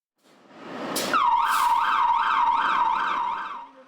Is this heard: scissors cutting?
no